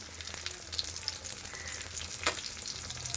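Mackerel rubbed with turmeric, chilli powder and salt frying in hot oil in a pan, a continuous close crackling sizzle with small pops and one brief louder spatter, no voices.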